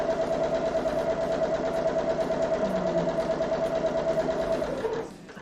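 An old Kenmore sewing machine stitching a quilt runs at a steady, fast mechanical whir with a constant hum, loud and close, then winds down and stops near the end.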